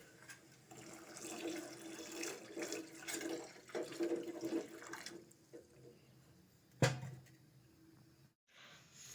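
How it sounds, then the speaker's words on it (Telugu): Water is poured into a cooking pot of salted water for boiling eggs for an egg curry, a steady splashing rush for about five seconds that then fades, followed by a single sharp clunk. "అలాగే కొన్ని వాటర్ కూడా పోసేద్దాం."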